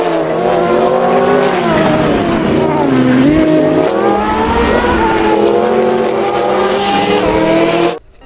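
Engine roar and tire squeal of a toy race car play continuously and loudly for about eight seconds before cutting off abruptly.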